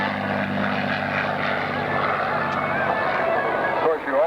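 Propeller aircraft drone loudly and steadily overhead at the 1995 London International Airshow, part of a World War II end anniversary celebration, with a steady engine roar throughout and no speech over it.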